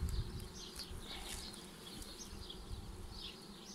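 Honey bees buzz around an open hive during beekeeping work, a continuous close droning hum with individual bees swelling briefly louder as they pass near.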